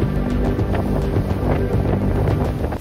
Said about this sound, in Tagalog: At ito na nga, nagsisimula ng lumakas ang alon.